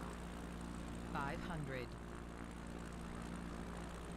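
A propeller plane engine drones steadily in a flight simulator game, a constant low broadband hum, while a voice speaks briefly over it.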